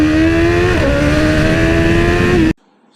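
A BMW S1000RR sport motorcycle accelerates hard on a highway at night, its engine howling in a loud, steady high-revving whine with a brief gear-shift dip, then cutting off abruptly into near silence.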